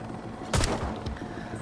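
One sharp, close long-rifle shot from Arizona Sunshine, a crisp crack followed by a short rumbling tail and faint mechanical clicks, standing alone without talk.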